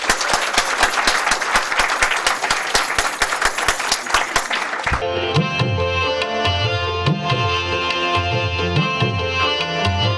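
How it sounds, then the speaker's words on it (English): Applause at a Gull Law Chambers anniversary dinner, steady dense clapping for several seconds that gives way abruptly to loud rhythmic music with a thumping beat. "Please give a big, huge round of applause to Riaz Gul and Gullah Chambers."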